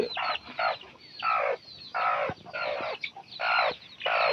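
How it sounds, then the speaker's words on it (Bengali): Chickens clucking repeatedly in short bursts, close by and fairly loud, with a rhythmic pattern of calls and no talking. "এটার ভিতরে মুরগি আছে"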